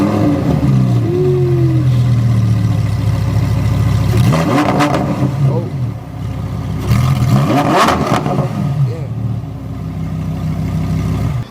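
A BMW M3 Competition with its stock exhaust idles with a deep steady rumble, then revs sharply twice in quick bursts before settling back to idle, loud and close.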